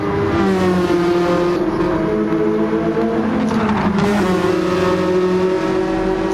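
A race car in Gran Turismo 7 drifting through the final turn on hard tyres, a steady loud engine drone with pitch sliding down then climbing as it exits, no voices over it.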